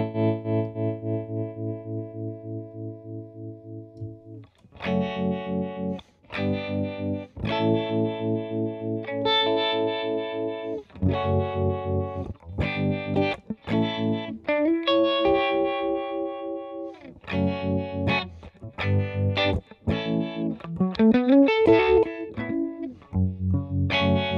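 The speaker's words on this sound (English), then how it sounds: "There we have our harmonic tremolo." Harmonic tremolo made from stock Logic plug-ins on an electric guitar, a run of picked chords and single notes with a pulsing, phase-shifted throb and slight distortion, loud and up front with no talk.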